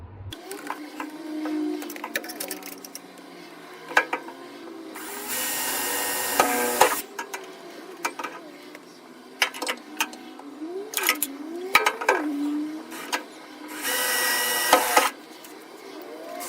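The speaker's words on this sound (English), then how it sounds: "ready for drilling some holes." A power drill whirs in two sustained bursts, drilling holes for a mounting bracket on an MG Midget, separated by clicks, clatter and scraping of tools nearby.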